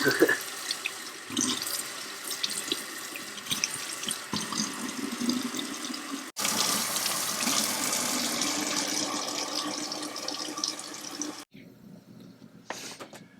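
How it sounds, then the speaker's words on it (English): Cold tap water runs steadily into a sink as marinated duck pieces are rinsed, a continuous close splashing stream that stops abruptly near the end, leaving faint room noise. "give them a rinse under some cold water"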